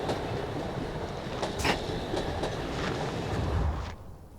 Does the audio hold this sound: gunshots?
no